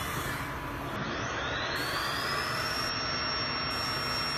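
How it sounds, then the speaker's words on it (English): A 2001 Haas VF-8 CNC vertical mill spindle winding up toward its 7,500 RPM top speed, a steady loud whir with a rising high whine climbing over several seconds, with no talk. "This should be top spindle speed coming up."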